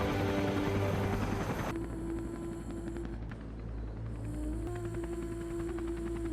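A helicopter's steady rotor throb and engine hum drone continuously at moderate level, with a low rumbling pulse and a slight shift in tone partway through; no voices.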